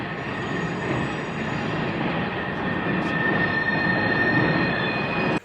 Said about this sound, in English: It is the sound of the industrial sector of this city, the trains going by, machinery running